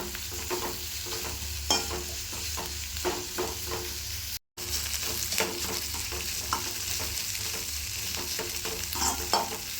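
Ginger garlic paste and chopped onion sauté in a pan for a veg gravy, a steady close sizzle broken by repeated scraping stirs and one brief dropout midway.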